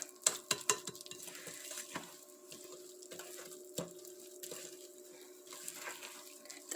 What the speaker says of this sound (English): Let's mix just until moist.